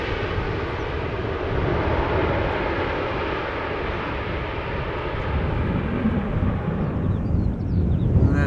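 A KLM Boeing 737-800 airliner arriving at Schiphol Airport after a flight from London Heathrow gives a steady, loud jet engine roar with wind noise, holding broadly even before easing slightly near the end.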